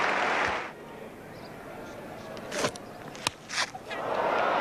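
A cricket crowd at a 1983 Australia versus Pakistan Test applauds Chappell equalling the record. The clapping swells loudly at the start, drops away to a quieter murmur with scattered knocks, then rises again near the end.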